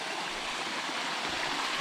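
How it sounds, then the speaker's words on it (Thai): A small forest waterfall spilling into a stream, a steady broadband rush of falling water with no breaks, close by and fairly loud, with no voices over it. "มีทั้งน้ำตกน้อย น้ำตก"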